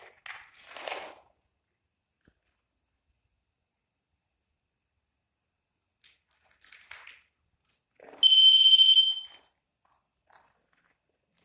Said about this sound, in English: The REM pod just went off again